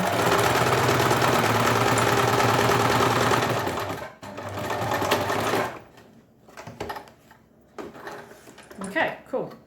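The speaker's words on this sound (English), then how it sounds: "sew the inside of the arm sleeve" A sewing machine stitches the inside arm sleeve seam of a garment with a fast, loud, continuous mechanical whir for about four seconds. It pauses, runs briefly again, then stops, followed by fabric handling and a person talking.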